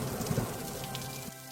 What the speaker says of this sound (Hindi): झमाझम बारिश हो रही थी